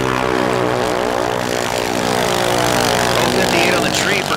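A junior dragster runs down the drag strip at a bracket race, its engine a loud, sustained buzzing drone with a steady pitch. An announcer talks over it.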